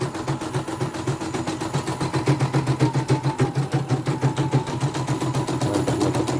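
A portable CNY embroidery machine, just serviced after a fault, running steadily with a rapid, even needle clatter over a mechanical hum, close and fairly loud throughout.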